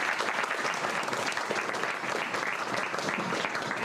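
A crowd at a science park update event breaks into sustained applause. The clapping is loud, dense and continuous, with many hands blending into an even roar that runs unbroken for nearly four seconds.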